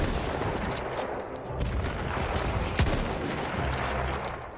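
Gunfire in Battlefield 1 during a hard-difficulty campaign mission, a series of sharp shots with one especially loud crack near the middle, set over constant battlefield noise and distant firing.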